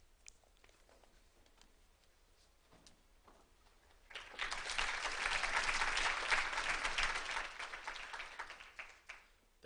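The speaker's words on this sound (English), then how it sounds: "Thank you for that round of applause." Applause from a conference audience breaks out partway through after a quiet stretch with faint sounds, swelling into a dense, steady wash of clapping that holds and then begins to thin toward the end.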